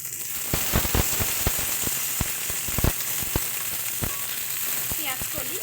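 Flat beans hiss and crackle in a hot pan for a mixed vegetable dish with prawns, steady sizzling broken by sharp knocks and scrapes of stirring, close and fairly loud with no talk.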